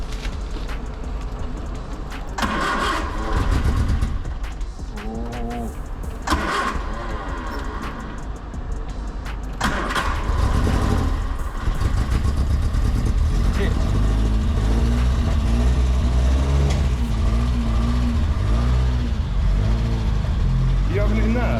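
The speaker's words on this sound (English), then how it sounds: "No, just a little crank and a bit of pedal." A Ford Mk2 Escort is cranked and fires up, its engine catching and settling into a loud, steady rumble with blips of throttle, close by, while people chat around it.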